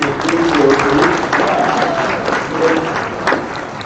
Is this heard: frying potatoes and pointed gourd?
no